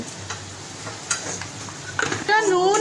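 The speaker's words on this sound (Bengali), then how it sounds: "তো এখন মা এটা এমনি নাড়ছে" A spoon stirs curry spices, tomato paste and salt in a pan with soft scraping and light clinks over a faint sizzle, then a voice begins speaking near the end.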